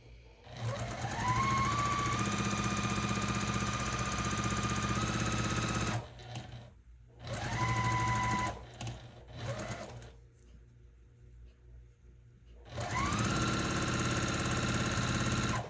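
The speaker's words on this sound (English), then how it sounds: "while I've been stitching this, I have been listening to my book" A sewing machine stitches a layer cake loop quilt, its motor whirring loudly and steadily in long runs that start up and wind down, broken by short pauses and one longer quiet gap before it resumes.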